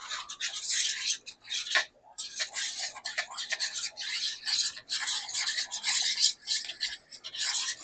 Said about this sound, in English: sometimes you gotta give that a good little whisk